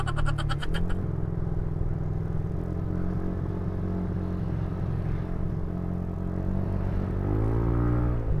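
A remapped Yamaha NMAX V2 scooter revs hard on a dynamometer with a semi-superstock setup. The engine drones loudly and steadily throughout, with a rising rev sweep near the end and no talking.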